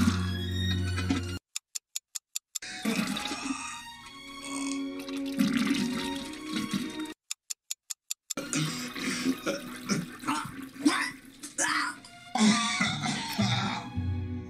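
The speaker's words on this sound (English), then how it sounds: "He did in fact cough up a hairball." A man in a film scene coughs and retches over a toilet while bringing up a hairball, repeated harsh coughs and throat clearing with splashing water, interrupted by brief silent gaps.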